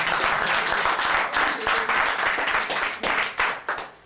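Dense applause from a crowd at an Amiga computer meeting rolls on steadily, loud and close, with some voices mixed in and the clapping thinning slightly toward the end.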